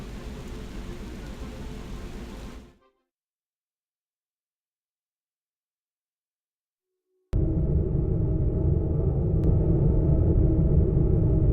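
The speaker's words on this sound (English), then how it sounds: "Where did this storm come from?" A deep storm rumble in a Warcraft III: The Frozen Throne cutscene, a loud, steady, broad roar that cuts off into several seconds of silence before returning just as strong.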